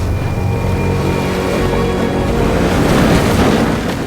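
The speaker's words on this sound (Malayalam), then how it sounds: "ഉയരുന്ന തിരമാലകളും കൊടുങ്കാറ്റും" Heavy ocean waves and storm wind off the Cape of Good Hope make a steady, loud, roaring wash of surf and gusting air with no break, and no voices.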